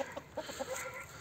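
Short clucking calls from a chicken or rooster, a few soft bursts close by over a faint background hiss.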